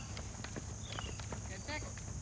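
A horse trots in an arena during a riding lesson, its hooves tapping in a quick, steady rhythm, faint and distant beneath an instructor's voice and a high background hum.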